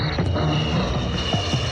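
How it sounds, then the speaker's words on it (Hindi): Airplane engine sound played back on a tape recorder, a steady droning propeller-like hum with a faint whine, close and continuous for a brief moment. "हवाई जहाज ऐसे उड़ेगा"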